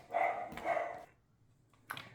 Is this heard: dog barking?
yes